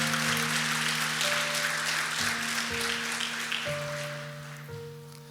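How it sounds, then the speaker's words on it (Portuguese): A church congregation claps loudly and continuously, a dense wash of applause with sustained organ-like tones underneath, fading slightly toward the end. "Dê uma salva de palmas a Jesus por isso"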